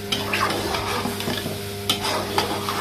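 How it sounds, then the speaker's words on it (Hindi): Potatoes and peas frying in masala with a little tamarind and water, a steady close sizzle broken by repeated scraping stirs of a spoon against the pot, with no talk. "इसकी करनी है अभी अच्छे से भुनाई,"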